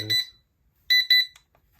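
Samshow rechargeable digital kitchen timer sounding its alarm on the high volume setting: a brief beep, a pause, then two loud, sharp electronic beeps in quick succession, close and clear with no talking.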